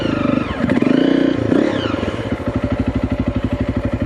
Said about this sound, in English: He says, driving over bamboo.